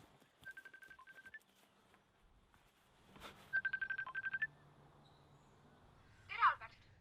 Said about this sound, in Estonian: Mul telefon helistab.